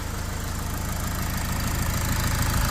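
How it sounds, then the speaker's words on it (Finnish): Fiat Ducato 180 Multijet diesel engine idling, a close, steady mechanical drone with a fast, regular clicking tap running through it, heard alone. "Tuolla on naputus tuolla taustalla."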